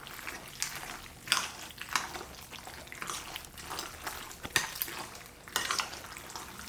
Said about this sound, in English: you're just gonna stir this up like this until all the cheese is around